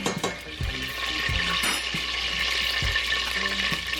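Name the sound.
butter melting and sizzling in a cooking pot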